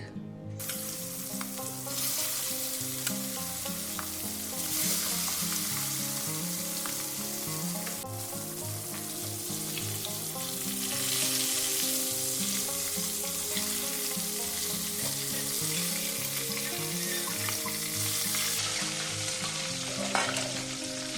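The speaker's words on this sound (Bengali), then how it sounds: "এরকম একটু লাল লাল করে ভেজে নিতে হবে মাছগুলো" Pieces of Katla fish frying in hot oil seasoned with salt and turmeric, giving a loud, continuous, crackling sizzle that holds steady throughout with occasional stirring sounds.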